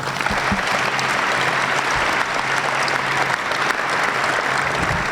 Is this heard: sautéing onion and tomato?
no